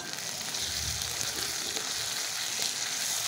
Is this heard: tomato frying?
yes